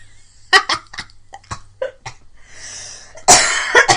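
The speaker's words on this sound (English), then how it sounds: "Sometimes I laugh, I cough." A person breaks into a rapid series of sharp, close coughs, several short bursts spaced through the moment before a final louder, harsher cough with a throaty rasp.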